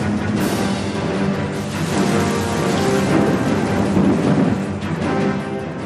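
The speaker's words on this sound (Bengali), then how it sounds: "শুরু হয়ে যায় ঝড় বৃষ্টি।" A thunderstorm near Kolkata airport brings heavy, steady rain with rumbling thunder swelling through, loud and continuous with no voices.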